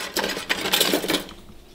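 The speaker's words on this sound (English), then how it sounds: "A whisk. I'll whisk it right now." A metal whisk scrapes and clatters quickly against a bowl in a busy, rattling burst, fairly close, then fades near the end with no voices.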